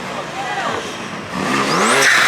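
Twin turbo Lamborghini Aventador at a car show, its engine revving up with rising pitch sweeps, loud and close, while people talk over it.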